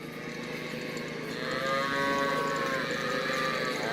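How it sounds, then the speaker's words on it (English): Hungry calves mooing on a farm, several long, loud, drawn-out bawls overlapping close by, rising in intensity through the clip. "You watch them cows, little calves,"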